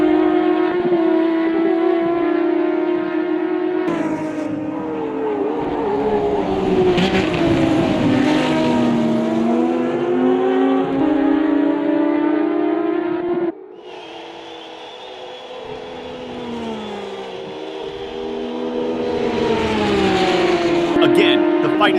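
BMW M1 Procar race cars lapping Spielberg in a racing video game, high engine notes rising and falling through gear changes, loud and continuous under a commentator's voice.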